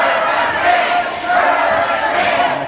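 A wrestling crowd at a live match between Aaron Draven and The Hurricane keeps up a dense, loud roar of cheering and chanting that swells and dips in waves, with a commentator's voice faintly mixed in.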